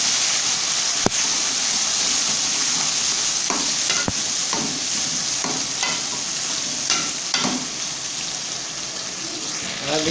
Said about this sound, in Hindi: अभी इसको मिक्स करते हैं टमाटरों को।